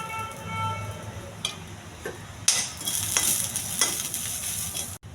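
Curry leaves, cumin, chana dal and dried red chillies fry in hot oil for a chutney tempering, giving a steady close sizzle with louder crackling bursts and stirring scrapes, with a faint tonal background at the start.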